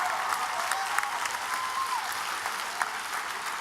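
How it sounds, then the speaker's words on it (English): An audience at a speaking event claps in a steady wash of applause that holds at an even, moderate level, with a brief whistle-like tone rising over it partway through. "Give yourselves a round of applause."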